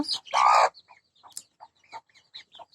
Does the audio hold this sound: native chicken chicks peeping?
yes